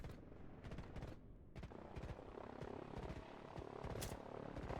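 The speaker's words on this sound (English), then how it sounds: "Helicopters coming in to try and defend it." Helicopters and rapid gunfire in the Line War strategy game, with dense machine-gun bursts and sustained rotor drone filling the scene continuously at steady loudness.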